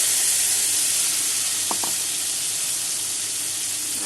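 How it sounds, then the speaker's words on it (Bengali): Six green chilies and a little ginger frying in oil for a Bengali dish, a loud, dense, steady sizzle and hiss throughout, close up, with a faint brief tap midway and no voices. "আর এখানে আছে 6টা কাঁচা লঙ্কা, একটু আদা, সব একসাথে দিয়ে দিলাম।"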